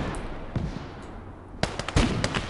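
An artillery barrage lands in the WWII game Call to Arms: Gates of Hell, rendered as a low rumble and muffled thumps that give way to a cluster of sharp, crackling blasts.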